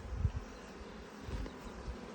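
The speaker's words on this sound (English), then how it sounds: "We have some Saskatraz bees here." Saskatraz honey bees buzz at a hive during queen checks, a low, close, continuous drone with faint pulses in intensity and no talking.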